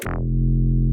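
A deep, sustained synth bass tone enters after a brief bright attack and holds steady at a constant loudness, heard alone.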